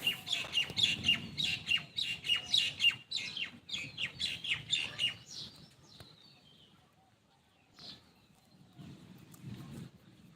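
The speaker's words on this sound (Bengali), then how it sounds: "দেখেন কারেন্টের তারের মাঝে পাখি কীভাবে বসে আছে" Birds perched on electric power lines under a cloudy, rain-threatening sky give a quick run of bright chirps and squawks for about five seconds, then fall mostly quiet with only a faint call or two.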